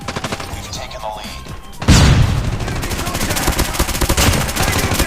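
AS VAL rifle firing in Call of Duty Mobile, rapid bursts of sharp, loud shots that begin sparse and become a sustained rattling stream after a heavy boom, with a voice talking at times.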